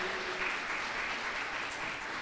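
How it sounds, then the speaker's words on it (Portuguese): A church congregation at an evangelical Baptist service claps together in dense, sustained applause, steady and fairly loud for a couple of seconds. "Uma salva de palmas para Jesus por essas vidas."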